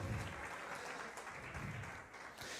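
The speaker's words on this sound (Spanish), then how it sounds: "un aplauso para Joancito" A church congregation applauds, a continuous round of clapping from a crowd heard a little distant and fairly soft.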